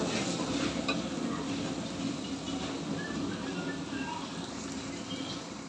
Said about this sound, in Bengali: আর দিয়ে দেবো কাঁচামরিচ। ভালো করে নেড়েছিলাম।